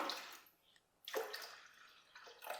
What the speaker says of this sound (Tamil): ஒரு ரெண்டு கப் அளவுக்கு தண்ணி சேர்த்துடலாம்